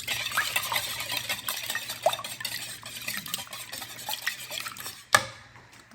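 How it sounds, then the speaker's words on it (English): Steady soft stirring and light clinking of a whisk through French toast batter in a bowl, continuous for several seconds with a sharper knock near the end. "Whisk it."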